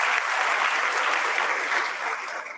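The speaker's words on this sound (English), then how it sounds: "Let's please give Commissioner Meredith Tuitt another round of applause, please." An audience at an annual heroines celebration ceremony applauds, a dense, even burst of clapping that holds steady and then starts to thin out near the end, with no talking over it.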